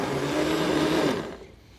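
A blender running on high speed through zucchini soup gives a loud, steady motor whir for about a second before winding down and cutting off near the end.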